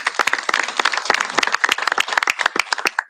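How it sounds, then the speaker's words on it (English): An awards-event audience claps in a brisk round of applause, dense individual hand claps close and loud, sustained throughout with no talking. "Round of applause."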